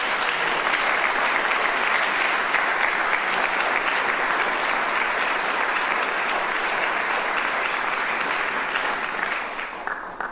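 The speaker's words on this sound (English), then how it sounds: "How about another round of applause?" Sustained applause fills the hall at a university alumni achievement awards ceremony, a dense steady clapping from a large audience that tapers off near the end.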